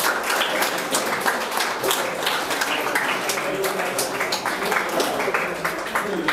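Students at an international school assembly in Ghana clap for a named classmate, a busy patter of individual hand claps, fairly close and uneven, with some voices mixed in.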